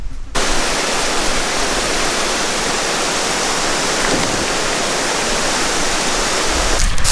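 Water in a mossy, algae-filled creek rushes continuously as a loud, dense broadband roar that holds steady and near for the whole stretch, with no voices.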